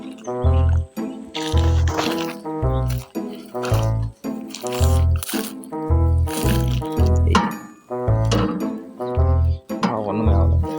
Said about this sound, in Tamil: தண்ணி அடிச்சு பார்க்கலாமா, தண்ணி வருதான்ட்டு.